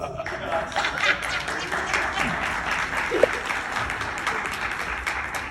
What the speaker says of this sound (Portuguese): Mereceu um aplauso, viu?